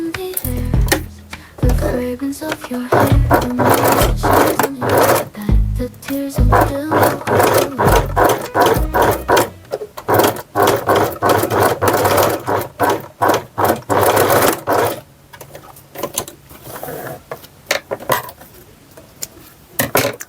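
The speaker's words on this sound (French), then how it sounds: "je reprends ma couture du biais pour tenir ma patte" Sewing machine stitching bias binding onto a child's apron, a loud, steady mechanical run with brief pauses and restarts across the stretch, close up and with no talking.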